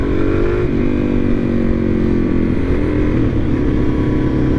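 A 2023 Suzuki DR-Z400SM supermoto motorcycle being ridden, its single-cylinder engine droning steadily and loud up close, with small pitch shifts as the throttle changes and no voices.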